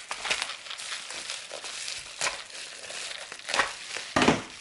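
Plastic packaging crinkling and crumpling close up while beads are unwrapped, irregular bursts of crackly rustling with louder crunches near the end.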